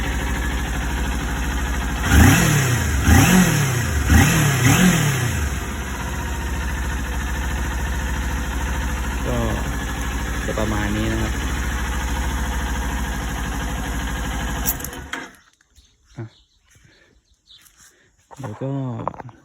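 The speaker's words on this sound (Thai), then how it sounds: "เสียงเครื่องของนินจาสี่ร้อยมันจะ ดังๆนะครับ ดังๆมันจะไม่เงียบนะเครื่องนินจาสี่ร้อยต่อให้ท่อเดิมนะ" A Kawasaki Ninja 400 engine on its stock exhaust runs at a steady idle for about fifteen seconds, with a voice talking briefly over it early on. The engine then cuts out, leaving near silence.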